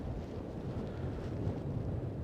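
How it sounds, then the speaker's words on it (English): Strong winter wind buffets a low-flying drone camera over Brooklyn streets, producing a continuous deep, rumbling roar of wind noise on the microphone, steady and without voices. "As the wind pushes the camera once again, it is just that windy"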